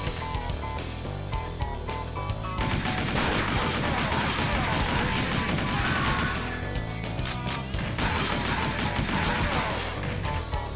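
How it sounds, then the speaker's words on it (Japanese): Gunfire in the Virtua Cop arcade shooting game comes as rapid, dense bursts of shots and crashes over loud continuous game music, while players talk over the action. "バッタバッタと撃って倒すのじゃ。"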